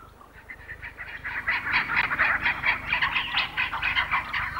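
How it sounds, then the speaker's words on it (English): A rapid, continuous series of loud, nasal bird calls from fowl, squawking and clucking close by for several seconds with no speech. "you Chickens are so noisy"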